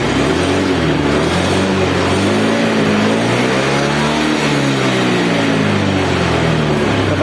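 A Honda Beat FI fuel-injected scooter engine, fitted with an O2 sensor manipulator, revs loud and close, its droning pitch rising and falling steadily over several seconds with no voices.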